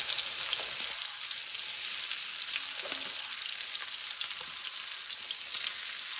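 Thin slices of green tomato sizzle and fry in a pan, a constant loud crackling hiss close by, with occasional stirring or turning sounds and no talk.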